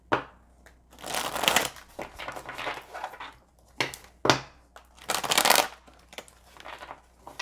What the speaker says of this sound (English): I'm going to shuffle this one out here.